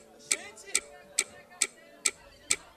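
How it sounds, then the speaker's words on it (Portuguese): A clock ticks six times at an even, steady pace, each tick sharp and close over a faint background of music. "Ao som do tic-tac."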